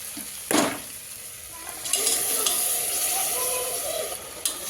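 Cooked mutton being sautéed in a pan with mint, coriander and turmeric for mutton pulao, giving a steady soft sizzle with occasional stirring scrapes, close by and moderately loud.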